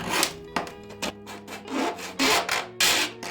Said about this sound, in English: I should probably grab my file tool and just clean up the steel just a little bit, or aluminium